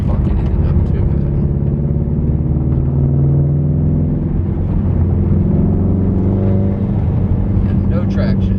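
A 2017 Subaru STI drives over a gravel back road in rural Ohio, a loud steady engine drone and tyre rumble inside the cabin, with people talking over it.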